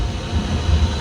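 Express train pulling out from a station, heard from inside a sleeper coach: a steady low rumble and broadband roar of the moving carriage, loud and continuous with no talk.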